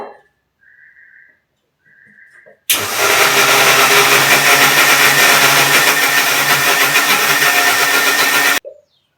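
A mixer grinder grinds masala paste with garlic cloves, cashews and sesame. It bursts on abruptly, roars loudly and steadily for about six seconds, then cuts off, with faint brief sounds just before it starts.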